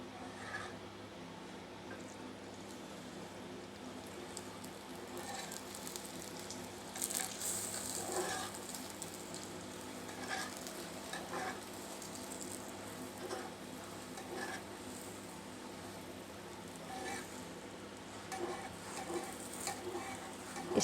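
Egg-filled paratha frying in ghee on a griddle, a steady soft sizzle and faint scraping rasp running quietly throughout with small crackles.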